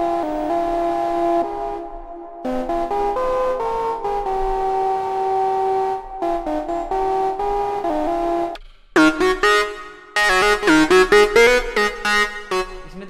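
Bright lead synth presets from the Native Instruments Massive VST play melodic lines with sustained harmonic tones, shifting to choppier, punchier stabbed notes in the second half, loud and alone with no voices.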